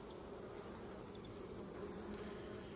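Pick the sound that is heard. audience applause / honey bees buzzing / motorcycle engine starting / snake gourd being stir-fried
honey bees buzzing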